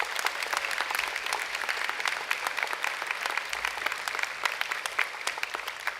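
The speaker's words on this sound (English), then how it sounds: "let's have another round of applause for all the members of Frederick House" A medical school white coat ceremony audience claps for Frederick House members with sustained, even applause that holds steady for the full six seconds at moderate loudness.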